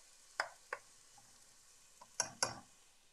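Cauliflower soup is stirred in a pot, with a spoon scraping and knocking against the side in a few quiet, separated strokes: two near the start and a closer cluster of clinks toward the end.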